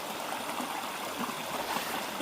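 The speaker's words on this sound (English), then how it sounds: "that soothing sound of the water going over the boulders" Water rushes over boulders in a stream, a steady close broadband gush with bubbling and gurgling texture and no pauses or voices.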